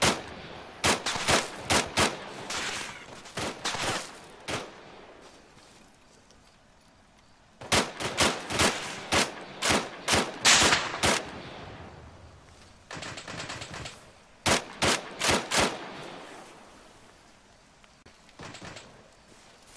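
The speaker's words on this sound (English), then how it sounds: "There's still a machine gun at the construction site. It opens up on us every now and again." Machine gun fire in a war video game rattles out in repeated bursts, sharp clustered shots separated by short lulls, loud and close throughout with no talking.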